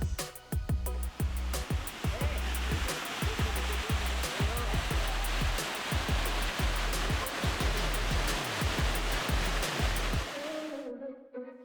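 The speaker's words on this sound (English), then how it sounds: "the Elephant Falls are amongst the most popular falls in the northeast" Steady, dense rushing water of Elephant Falls in Shillong, India roars continuously, a broad hiss of falling water heard close up, then cuts off abruptly near the end.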